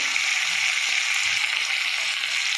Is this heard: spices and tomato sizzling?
yes